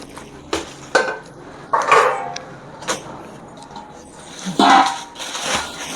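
A cooking vessel is picked up and handled in a home kitchen, giving several sharp metallic clanks and knocks of pots and utensils spaced out over a few seconds, close to the microphone.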